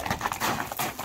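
A running horse's hooves beat out a fast, steady clip-clop close by, filling the whole short stretch, with no talking over it.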